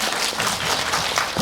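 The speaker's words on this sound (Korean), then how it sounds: "박수 한번 보내주시죠." A Korean cinema audience at a film screening Q&A claps for a crew member, a brief, dense burst of many hands filling the room.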